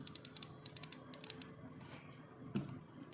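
Quiet, rapid clicking of an SPC Gear LIX computer mouse in quick bursts, close and crisp, then a pause and one louder click-thud, with no voices.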